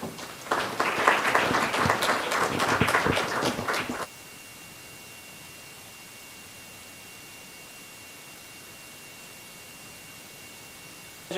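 Audience applause greets a speaker at an academic talk on belonging, performance, merit and intervention, a dense burst of clapping for about four seconds that stops abruptly, leaving quiet room hiss.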